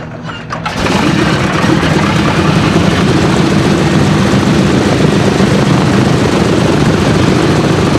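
Big piston engine of a US World War II military airplane roars up after a brief start, then holds a loud, steady, dense drone close by for the rest of the clip.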